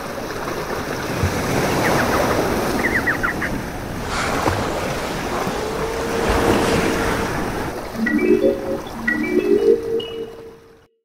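Ocean surf rolls in a continuous washing roar with wind across the microphone, and bright tonal calls break through near the end.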